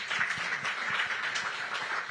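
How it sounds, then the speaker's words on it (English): A soft, steady round of applause from a summit audience for the panelists, many hands clapping at a distance without anyone speaking. "Ladies and gentlemen, please, round of applause."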